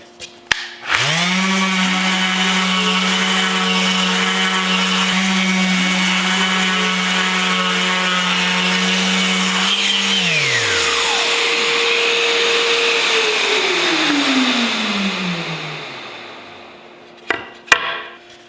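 A power sander spins up loudly against a glued wooden picture frame for a custom Hot Wheels Forever Stamps build. It holds a steady, close motor whine for about nine seconds, then winds down in falling pitch and ends with a few sharp clunks.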